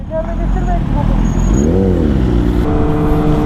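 A sport motorcycle engine revs up and falls back, one rising and falling surge followed by a steady higher drone, heard close and loud under people talking.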